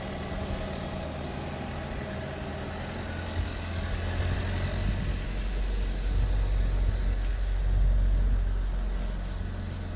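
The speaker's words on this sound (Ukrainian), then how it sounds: "Про запуск двигуна свідчить звук." Remotely started Ford Edge engine idling steadily with a low rumble, a constant mid-level hum throughout with a slight swell near the end, no voices.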